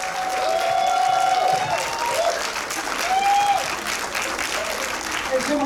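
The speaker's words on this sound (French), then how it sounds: "On applaudit chaleureusement, s'il vous plaît." Warm, sustained applause from an audience at the opening-night gala of the 40th Vues d'Afrique international film festival, a dense, steady wash of clapping with a few raised voices and whistles rising over it.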